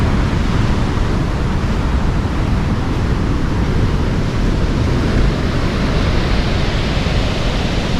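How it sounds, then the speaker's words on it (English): Storm surf on a west coast beach, heavy waves pounding in as a loud, unbroken roar of broadband noise with wind mixed in, continuous and close, no voices. "Look at that wall of water coming in."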